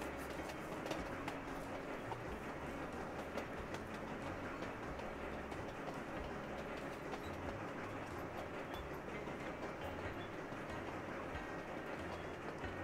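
Train running in the video game Sweet Transit, a steady rolling rumble with soft clickety-clack over the rails, continuous and even throughout with no talk.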